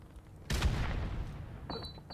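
A grenade explodes in the Call of Duty 4 Remastered video game: a sudden loud, booming blast that decays over about a second, followed by a short metallic ring and further faint rattling debris.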